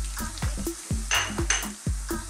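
Minced pork and carrots sautéing in a pan, a steady sizzle broken by repeated scraping strokes of a spatula and light clinks against the metal, close and with no talk.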